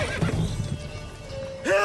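Roach, Geralt's horse in the video game The Witcher 3, gives a loud, close whinny near the end, rising and shaking, after a stretch of hoof clatter and low rumbling.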